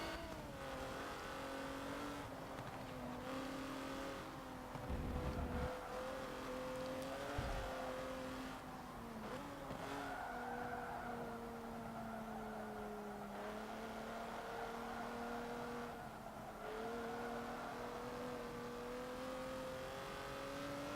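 Race cars in Forza Motorsport 7 roar along on a final lap in a sport luxury race, engines revving and shifting with rising and falling pitch, brief tire squeals and passing cars, no talk.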